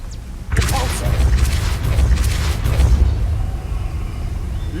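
A Depulso spell blast in Hogwarts Legacy bursts in suddenly about half a second in, then a loud, dense rumble with crackling bursts rolls on for several seconds before easing slightly.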